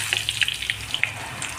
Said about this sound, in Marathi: तर आता थोडा थोडा करून आपल्याला हा किस देखील मस्त असा तळून घ्यायचा आहे।